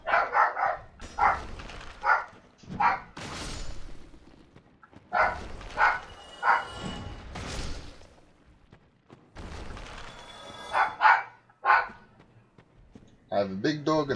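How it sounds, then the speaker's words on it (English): A small dog barks in sharp bursts, repeated in clusters of two or three yaps with pauses between, fairly close and loud over faint background noise. "Sorry about the barking if you guys hear anything."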